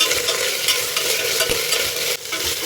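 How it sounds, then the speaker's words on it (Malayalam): Ginger garlic paste sautéing in a pan for veg pulao, a steady loud sizzle with frequent scraping stir strokes throughout and no voices. "ഞാനിതിൽ ജിഞ്ചർ ഗാർലിക് പേസ്റ്റ് ആഡ് ചെയ്തിട്ടുണ്ട്. നന്നായിട്ടൊന്ന് വഴറ്റണം."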